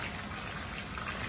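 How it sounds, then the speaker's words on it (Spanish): Mojarra fish frying in a pan of hot oil makes a steady, dense sizzle and crackle throughout, loud and close, with no voices. "aquí ya les estoy mostrando cómo se están friendo"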